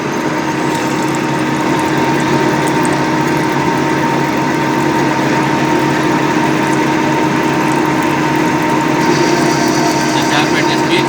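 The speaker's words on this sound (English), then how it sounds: "Fix the turning tool towards the angle for right side and lock it" A lathe turning tool set at an angle cuts a chamfer on the edge of a model part, giving a steady, loud mechanical whir with a continuous hum and faint ratcheting texture throughout, with no talking.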